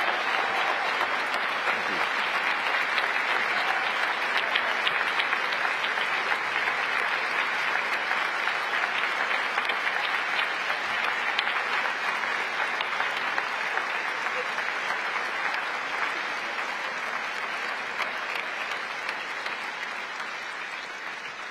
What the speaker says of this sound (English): A very well-deserved standing ovation there for Peter